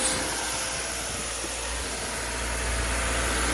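A 2009 Lexus ES 350 engine idles steadily and smoothly, a close, continuous low hum with no revving or talk.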